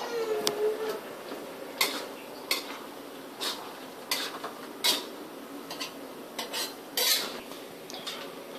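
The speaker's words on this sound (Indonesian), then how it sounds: "Lalu aduk kembali hingga" A utensil stirs an oyster mushroom stir-fry with tomato sauce in a pan, making repeated close metallic scrapes and clinks at an uneven rhythm over a faint sizzle, with no talking.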